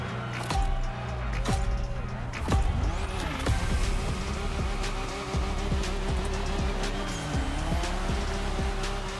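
Race cars duel wheel-to-wheel in The Crew Motorfest, engines droning steadily with repeated tire squeals and skids cutting through, sustained loud racing noise throughout.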